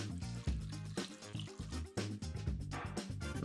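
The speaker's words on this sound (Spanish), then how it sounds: "Y añadimos agua justo para cubrirlas." Water is poured into a pot of potatoes seasoned with salt and vinegar, just enough to cover them, giving a soft, uneven splashing and gurgling trickle, quiet and close, with no talking.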